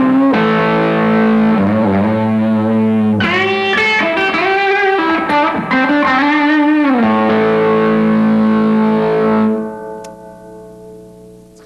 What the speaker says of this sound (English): Got that old kind of Tweedy Fender sound.